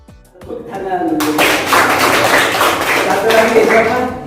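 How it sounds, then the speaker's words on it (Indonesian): Audience clapping in a teaching-practice classroom session, starting after a short spoken moment and building into steady, fairly close clapping with a little laughter mixed in. "tepuk tangan."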